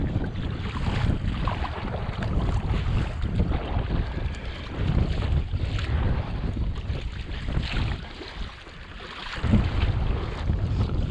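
Steady wind roars and buffets across the microphone out on a lake aboard a Native Falcon 11 boat, with water sloshing beneath, continuous and fairly loud with no talking.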